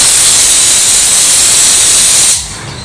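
A pressure cooker vents steam after cooking lentils (dal) through two or three whistles, a loud steady hiss that runs without a break for over two seconds, then suddenly drops to a faint residual hiss as the release dies down.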